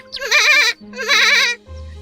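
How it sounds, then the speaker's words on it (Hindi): Two long, wavering goat bleats ring out close and loud, one after another, from a pair of goats grazing on grass by a riverbank in the shade of a tree, followed by a low steady hum. "रतन नदी किनारे पेड़ की छांव में सुस्ताने लगा और दोनों बकरियां घास चरने लगी।"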